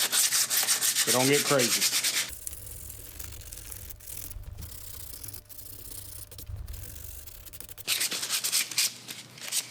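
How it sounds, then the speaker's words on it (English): Fiberglass on the swell of a saddle tree is lightly sanded with dry, rasping strokes, loud at the start and end, with a brief spoken remark over the opening scratches. "we just want to lightly sand and scratch the top edge of this"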